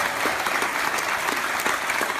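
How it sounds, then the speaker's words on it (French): A television studio audience applauds an author, a dense, even burst of many hands clapping close and loud, with no voices over it. "On applaudit Michel Bussy."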